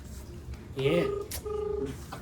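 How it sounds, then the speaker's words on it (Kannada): A mobile phone call rings out unanswered, giving two steady ringback tone bursts close on the line while someone speaks over it. "ಗೈಸ್ ಕಾಲ್ ಮಾಡ್ತಾ ಇದ್ದೀವಿ, ಅವನಿನ್ನೂ ಪಿಕ್ ಮಾಡ್ತಿಲ್ಲ"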